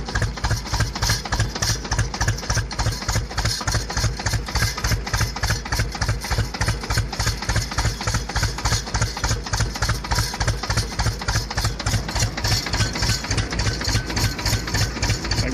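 An Ursus C-330 tractor's diesel engine idles after a hard start, a steady, loud, close chugging knock with an even rapid beat that holds through the whole stretch, with no talking.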